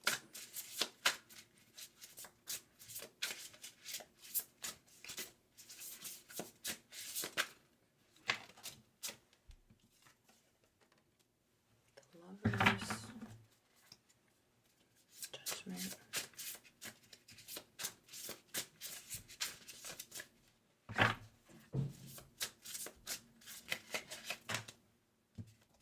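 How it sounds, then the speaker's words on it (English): Tarot cards being shuffled in repeated bursts of dense, crisp riffling and flicking, close to the microphone, with quieter pauses between bursts and a voice talking at times. "These are just not wanting to shuffle"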